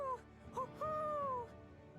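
An owl hoots in Tales of Arise: two short tonal hoots followed by one longer, gently falling hoot, clear and fairly close over a quiet game ambience, with no talking.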